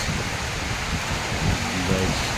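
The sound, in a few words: heavy rain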